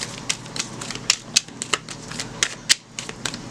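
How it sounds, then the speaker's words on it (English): Oracle cards shuffled by hand during a reading, giving a run of crisp, papery riffles and flicks in irregular bursts, close and moderately quiet, with no voices. "And one more shuffle."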